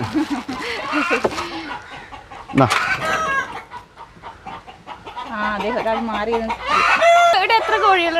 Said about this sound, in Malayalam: ഏകദേശം നാൽപ്പത് കോഴികളുണ്ട്